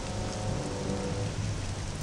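Rain falls in the video game Star Wars Jedi Knight: Jedi Academy, a dense, continuous downpour hissing evenly on surfaces with a low rumbling undertone, loud and unbroken.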